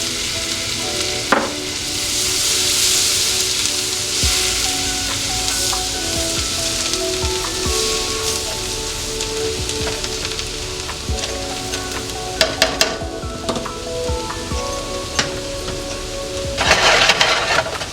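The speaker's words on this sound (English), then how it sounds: "So we're gonna melt all the butter and wait till it turns a little bit of brown. I'm gonna add good amount of garlic" A good amount of garlic fries in browning melted butter with a dense, steady sizzle and crackle, punctuated by a few sharper pops and utensil clinks, louder spitting near the end; no voices.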